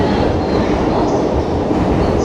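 A train rolling into Shibuya station, a loud, steady close rumble of wheels and carriages filling the platform, with a faint high squeal near the middle and no voices.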